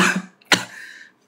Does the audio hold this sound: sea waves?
no